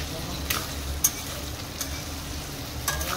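Onions and bay leaf fry in oil for a mutton curry, giving a steady low sizzle with a few soft clinks of stirring, close and alone.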